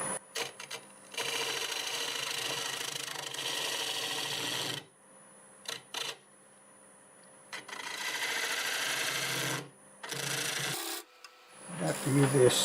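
Mesquite workpiece spinning on a wood lathe at about 850 rpm, with a steady raspy scraping from tool contact that comes in long sustained bursts, broken by short pauses and quieter stretches of motor hum.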